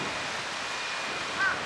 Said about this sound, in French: Par contre, il y a du vent.